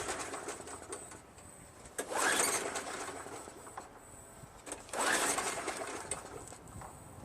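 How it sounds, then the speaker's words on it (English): A Craftsman self-propelled lawn mower with a 5.5 HP Tecumseh engine is pull-cranked twice with its spark plug out, each pull a rising whirring rush of the turning engine, near and distinct, with quieter gaps between. "I'm gonna crank it a few times to get whatever excess crap is inside the chamber."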